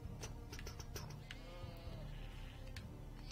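Sheep bleating in the farming game Deiland, faint repeated bleats over a soft ambient backdrop with light ticking sounds.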